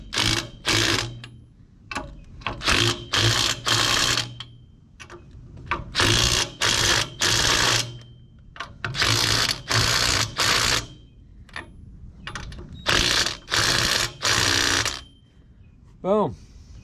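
Impact wrench tightening lug nuts on a truck's rear axle, heard as repeated loud bursts of hammering rattle separated by short pauses, close and dominant, with brief quieter gaps between runs.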